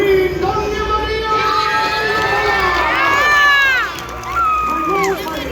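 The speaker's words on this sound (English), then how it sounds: "raise a mighty cheer for our host" A large crowd at a Medieval Times dinner show in California roars and cheers loudly for the host queen, with shouting voices and whoops swelling and dipping throughout.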